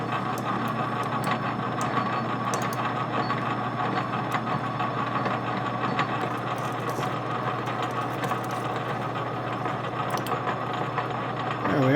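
A homemade slow speed grinder runs with its back gear engaged, giving a loud, steady mechanical whir and gear hum that continues unbroken from start to finish.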